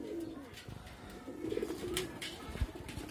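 Rooftop loft pigeons coo in low, throaty repeated calls while bathing in alum-treated water, a steady close chorus with light splashing and rustling underneath.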